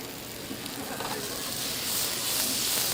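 Steady, crackling sizzle of potato gnocchi frying in a hot pan, a constant hiss that swells slightly louder toward the end.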